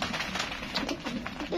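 Pigeons coo in short soft bursts close by while people talk over them.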